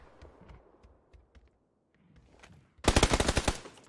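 Video game shootout: a few scattered distant shots and clicks, then a sudden close burst of rapid automatic gunfire, about a dozen loud cracks in quick succession.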